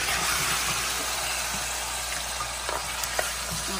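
Tomato paste fries in hot fat for a Haitian beef ragout with okra, a loud, dense, steady hiss of sizzling with a few faint clicks near the end.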